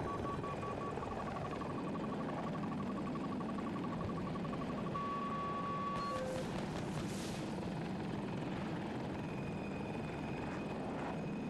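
A warning beep in a helicopter combat video game repeats as a steady pulsing tone for several seconds, then holds as a longer tone, over a constant engine and rotor drone.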